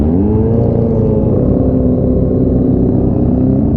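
A loud, close car engine holds a steady raspy roar with a slight pitch rise, its exhaust droning continuously throughout.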